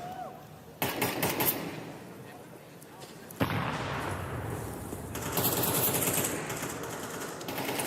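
Counter-Strike match gunfire at a professional esports grand final: bursts of rapid rifle shots and sharp impacts, loud and sustained, under a commentator's continuous voice.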